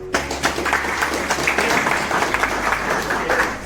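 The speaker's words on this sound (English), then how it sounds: "Alright, do a round of applause." Listeners at a tech event give a round of moderate, steady clapping over a low hum.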